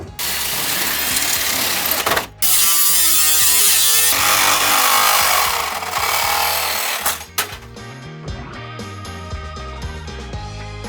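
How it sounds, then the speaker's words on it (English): Power drill boring a hole during a camper build, loud high-pitched whirring and grinding in sustained bursts with a brief stop, then winding down to a lower buzz. "Drill a hole and everything."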